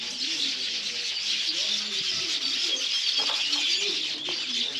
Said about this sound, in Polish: Jakieś papugi czy coś.